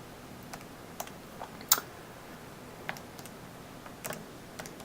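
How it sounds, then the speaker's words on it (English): Scattered taps on calculator keys while working through a statistics calculation, soft irregular clicks close by with short gaps, one sharper press standing out, in an otherwise quiet room. "typing numbers in my calculator"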